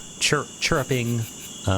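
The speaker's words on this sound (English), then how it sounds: "There's the sound of crickets, cicadas, other insects chirping" Crickets and cicadas chirp on a hot, muggy night, a few distinct bursts repeating at uneven intervals, close and fairly loud with no voices.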